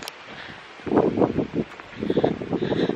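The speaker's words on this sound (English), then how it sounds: "It's really windy today." Gusty wind buffets the microphone outdoors in Windsor, England, in uneven bursts, a rough low rumble with a lull between stronger gusts.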